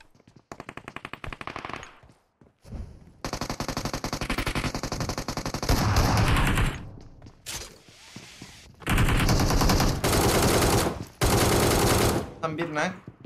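ACE32 assault rifle gunfire in PUBG Mobile, loud rapid automatic bursts repeating in several long strings with short pauses between them.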